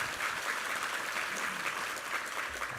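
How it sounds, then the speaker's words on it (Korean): Congregation applauding during a Sunday church worship service, a continuous, even wash of many hands clapping, slightly distant and reverberant. "우리 하나님께 감사와 영광의 박수 올려드리겠습니다."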